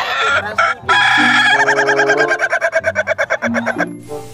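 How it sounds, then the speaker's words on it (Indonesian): A rooster in Jurassic World Evolution 2 crows loudly and close, with repeated rhythmic cock-a-doodle-doo phrases and a brief clucking break, heard on its own with no talking. "lihat di sini ada ayam jago"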